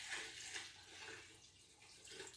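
Water pours steadily into a bucket of cabbage being brined for sauerkraut, a quiet continuous splashing rush with no talking.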